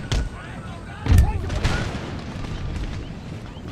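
Volleys of musket fire from troops in an Empire: Total War battle, modded with DarthMod, crackle and boom in a dense rolling barrage, with a heavy blast near the middle and a voice speaking over the din.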